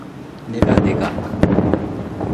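Distant fireworks finale bursting over a summer night, heard from a rooftop: several sharp booming reports with crackle in between, arriving at a moderate distance while people talk over them.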